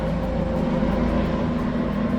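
A steady, low mechanical roar with a constant droning hum from a helicopter hauling a load off a mountaintop near Lake Louise, Banff, heard at a distance, unbroken throughout.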